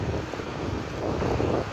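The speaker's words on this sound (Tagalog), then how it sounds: "Hangin." Steady, rough wind rumble buffets the microphone throughout, a continuous low roar with no voices.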